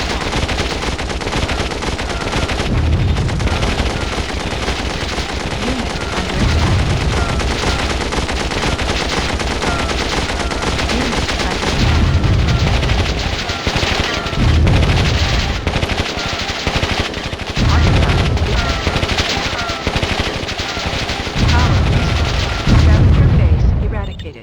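Units in the strategy game Warzone 2100 strafe a base with machine-gun fire, loud rattling bursts and booming impacts running almost without pause, while someone talks over the battle.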